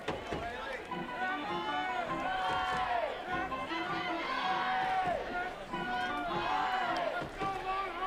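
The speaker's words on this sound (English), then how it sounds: "And this crowd getting into it a little more." Crowd noise at a college softball game between Texas and Kentucky, a steady roar of cheering and chatter from the stands that runs throughout at moderate level beneath continuous commentary voices.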